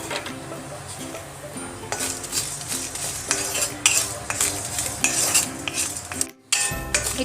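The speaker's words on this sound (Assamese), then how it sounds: "সেইখিনি অলপ ভাজি লম।" Whole spices dry-frying in a pan for chicken curry, soft sizzle under frequent metal spoon scrapes and clinks against the pan, close and fairly loud, a brief dropout near the end, no talking.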